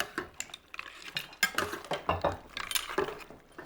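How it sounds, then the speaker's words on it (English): A utensil stirs a shellfish and orzo stew in a pot, with quick, close clinks and scrapes against the metal in a busy, uneven rhythm. "Now stir that together."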